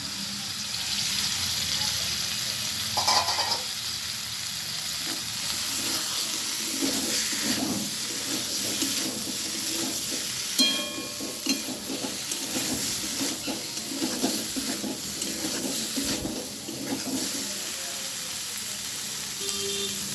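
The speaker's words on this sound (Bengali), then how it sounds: "এর মধ্যে আমি ভেজে রাখা কপিগুলো দিয়ে দিলাম।" Spice paste sizzling in a pan with fried cauliflower stirred in, a continuous close hiss broken by spoon scrapes and a few clinks, with faint sounds in the background.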